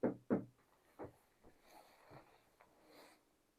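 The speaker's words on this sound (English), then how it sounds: "Could you copy me and knock like this?" Knocking on a wall or door in a reputedly haunted railway cottage, two firm knocks followed by a few fainter, scattered taps and rustles in a quiet room.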